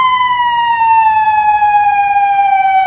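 A loud, steady police siren wails continuously and close, its tone sliding gradually downward, with no other sounds.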